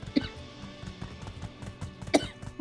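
A person coughs with something caught in the throat: a sharp cough, then a run of softer throat-clearing rasps, and another strong cough near the end, close and fairly quiet over faint game music.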